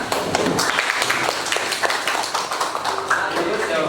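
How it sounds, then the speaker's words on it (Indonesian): Applause from a group in a classroom setting, dense and steady clapping sustained throughout at moderate loudness with no break. "berikan tepuk tangan"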